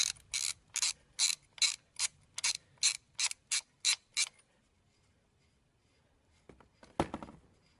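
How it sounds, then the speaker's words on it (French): Ratchet wrench removing a 29 mm nut on a Citroën Traction 11, about a dozen rapid, evenly spaced ratcheting clicks up close, then quiet and a short clunk near the end. "j'enlève mon écrou de clé de 29"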